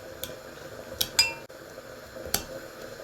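Mafé ingredients with a little garlic powder being stirred in a pot, giving a few sharp utensil clinks and scrapes against the metal over a quiet kitchen background, with no talking.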